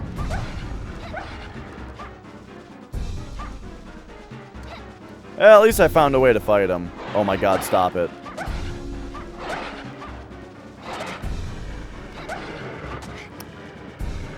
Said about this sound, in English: Oh, cool, more dogs.